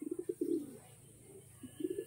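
Desi Giribaz pigeons from Murshidabad cooing in a loft: a run of soft, low throaty coos in quick succession, a pause, then another short burst, faint and close with no talk.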